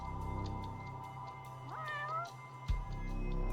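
A video game cat meows once nearby, a clear rising-and-falling call over a steady low background hum.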